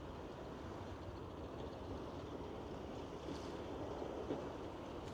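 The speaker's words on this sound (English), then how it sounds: "You can hear some of the calm water waves breaking." Gentle surf from calm water waves washing onto a beach, a steady soft broadband wash with a few slightly louder swells, fairly quiet and with no voices.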